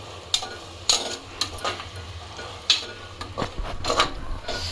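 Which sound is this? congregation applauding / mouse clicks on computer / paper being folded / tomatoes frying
tomatoes frying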